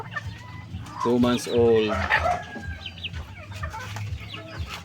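Two-month-old Japanese Shamo chickens cluck and squawk close by in a short burst, with softer clucks and rustling continuing after it, while someone speaks briefly.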